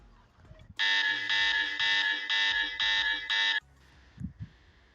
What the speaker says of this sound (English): There is the alarm bell.